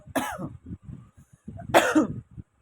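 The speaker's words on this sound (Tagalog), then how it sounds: "Ay, may ubo ako." Two harsh coughing bursts, each followed by short throat-clearing rasps, close and fairly loud with brief pauses between.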